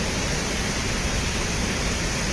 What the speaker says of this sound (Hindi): हवा की झोंकों के साथ साथ हर हर का शब्द करते हुए अष्टवसु की यह पावन धारा है